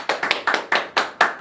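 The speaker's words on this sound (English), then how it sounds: "Round of applause. Round of applause," A few people clapping for a joke round of applause in a garage, about six separate bursts of claps at an uneven rhythm, close and moderately loud.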